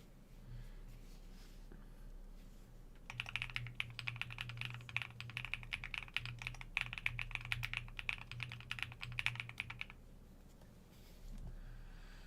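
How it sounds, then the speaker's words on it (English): Fingers type quickly on a TET mechanical keyboard fitted with HMX Hades switches and KKB Retro Mixed Lights keycaps, producing a dense run of soft, close clacks for about seven seconds, with quiet room noise before and after. "And the keyboard works."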